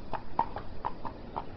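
Hooves of draft horses clip-clopping at an unhurried walk on a village path, about eight distinct hoof strikes in a steady, slightly uneven rhythm, fairly close and clear.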